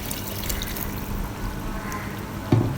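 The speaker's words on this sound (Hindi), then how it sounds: "इसमें 1 कप पानी ऐड करेंगे" Water trickles steadily into kofta biryani masala, a cup poured in a continuous low splash, with a sharper spill near the end.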